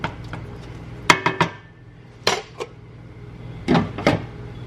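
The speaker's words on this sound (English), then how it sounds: "I'm gonna put the lid on and let the vegetables cook" A lid goes onto a cooking pot of kare-kare, Filipino oxtail peanut stew, with several distinct metallic clinks and clatters spaced over a few seconds, close and fairly sharp, with no talking.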